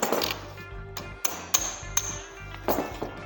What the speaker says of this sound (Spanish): Cojo con el pico loro el muelle y lo cierro y con el martillo